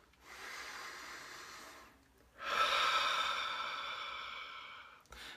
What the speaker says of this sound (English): take in a good, nice, deep breath